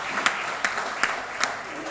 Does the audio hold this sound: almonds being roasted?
no